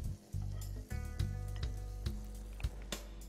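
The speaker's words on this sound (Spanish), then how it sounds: "Vamos a ir poniendo un poco de mantequilla en este sartén" Butter sizzles as it melts in a frying pan for a sofrito of onion, sweet pepper and garlic, cooked outdoors: a soft crackling hiss with light irregular ticks over a steady low hum, fairly quiet and close.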